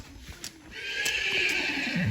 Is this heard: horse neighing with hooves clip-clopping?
yes